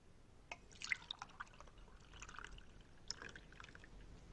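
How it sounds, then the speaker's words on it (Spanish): Milk is poured from a cup into a pot holding butter, making faint splashing and dripping sounds: a few soft liquid plinks followed by a gentle, quiet trickle, heard close with no voices. "Y le agregamos una taza de leche."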